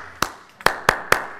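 Four sharp hand claps ring out in a quiet room as a classroom quiet signal. One clap is followed by a quick triple, close and crisp against near silence.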